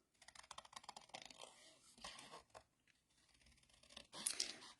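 Scissors snip paper pennants in short, quick crisp cuts, rapid bursts of close, faint snipping with brief pauses between runs.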